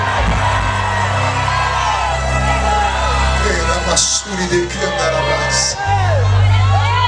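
A church congregation shouts and whoops in praise to God, a loud, sustained mass of cheering voices and yells with a short dip midway before surging again.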